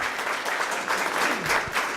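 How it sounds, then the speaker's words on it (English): A short burst of audience applause, steady clapping from a crowd at an event in downtown Lynn, moderately loud and sustained throughout. "that does deserve a round of applause"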